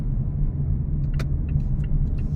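A car moves smoothly through a roundabout, its steady low engine rumble and road noise heard from inside the cabin, with a few faint clicks and rattles over it.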